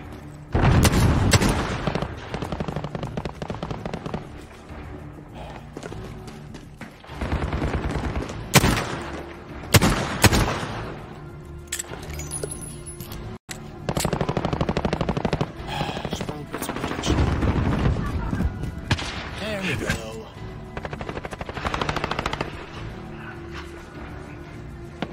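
Rapid machine-gun bursts and rifle shots crackle nearly nonstop in a Call of Duty Modern Warfare Warzone match, loud and dense with brief gaps, while voices speak over the gunfire.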